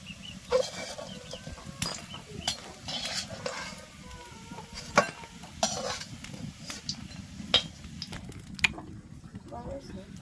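Chicken pakoras fry in a pan with a steady sizzle, broken by repeated clinks and scrapes of a utensil stirring against the metal, while a person talks over the cooking.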